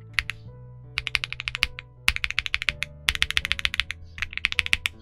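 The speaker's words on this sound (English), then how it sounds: "I am very pleased at how well these sound" A Keydous NJ87 Pro mechanical keyboard with stock Kailh box switches is typed on close up, producing quick bursts of crisp, clacky keystrokes in uneven runs, with a few deeper thocks and short pauses.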